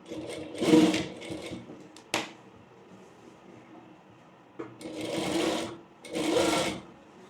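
A sewing machine stitches a layer frill frock in short bursts of rapid needle clatter, separated by pauses and a sharp click, close and moderately loud in a quiet room.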